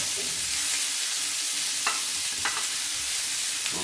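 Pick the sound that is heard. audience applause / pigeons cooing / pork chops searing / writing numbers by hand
pork chops searing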